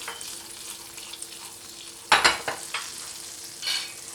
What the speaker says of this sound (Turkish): Bir çay kaşığı da kırmızı pul biber ekliyorum. Renk vermesi açısından. Tereyağını biraz kızdıracağım.